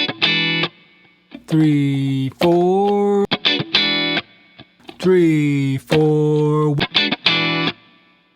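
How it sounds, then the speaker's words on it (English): Distorted funk electric guitar chord stabs land on the second triplet partial, loud short bursts alternating with sustained bent-sounding chords, while a voice counts beats between them. "let's move the chord stab to the second partial of the triplet"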